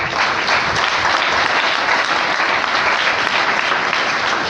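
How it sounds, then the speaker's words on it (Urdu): Loud, sustained applause from a church congregation at a Pentecost Sunday service, dense clapping filling the whole stretch without letting up. "زوردار تالیاں ماریں۔"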